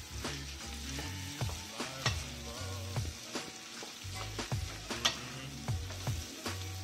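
Onion frying and being stirred in a pan, a continuous close sizzle broken by regular stirring scrapes, with a low rhythmic thumping underneath.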